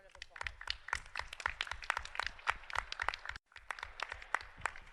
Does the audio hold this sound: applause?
yes